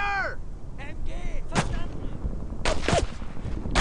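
Gunfire in the World War II shooter Brothers in Arms: Road to Hill 30, a few sharp shots cracking over a steady battle din while soldiers shout.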